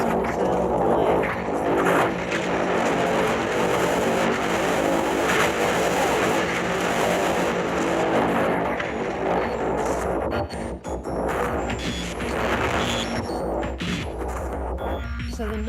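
Robot drums effect controlled with MiMU gloves, a dense, loud, churning processed texture with rumbling low end and bright, glitchy bursts, steady throughout without talk.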